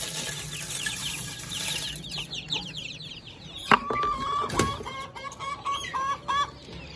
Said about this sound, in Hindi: वो देखो यार मुर्गी अपने बच्चों को मार रही है यार,